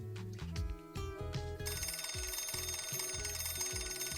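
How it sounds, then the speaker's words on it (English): A telephone rings in a visual novel game scene, a repeating electronic bell tone that starts over music and then continues steadily and loudly to the end, with no talking. "his phone rang"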